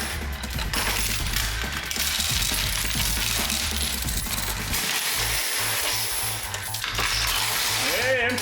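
Coins and chips clatter and drop inside a high-limit coin pusher arcade machine, a dense, continuous metallic jingling with loud mechanical rumble throughout, busy casino-like noise filling the whole stretch.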